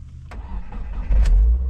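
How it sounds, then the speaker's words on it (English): A 2016 Subaru WRX engine turns over and fires near the end, a low rumble rising to a steady running note after a short stretch of quieter cabin noise. "I started the car back up and the noise was gone."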